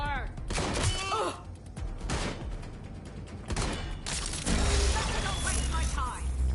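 Gunfire in the video game Watch Dogs Legion: a dense fusillade of shots and cracks mixed with game effects and voices, continuing loudly through the whole stretch with heavier bursts toward the end.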